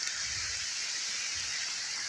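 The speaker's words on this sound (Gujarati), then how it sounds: "જો વરસાદ ચાલુ થઈ ગયો" Rain beginning to fall in a village, a steady broadband hiss of drops on surfaces with no pauses, close and fairly even throughout the short stretch, with no talking.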